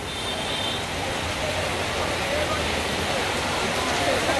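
Heavy nighttime rain in Raipur, a dense, steady hiss pouring down throughout with a faint rumble of traffic underneath, heard nearby and without a break.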